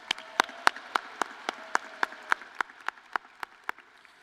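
Graduates' families and guests applaud at a Washington State University commencement ceremony, a steady run of sharp, distinct hand claps, fairly close and alone, thinning slightly toward the end.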